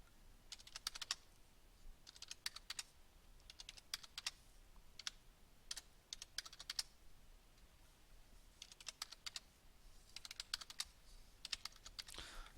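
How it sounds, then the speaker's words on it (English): Data keyed into a TI-Nspire graphing calculator: quick clusters of light, crisp button clicks in uneven bursts with short pauses between, close and fairly quiet, with no talking. "So I'll just type these in here."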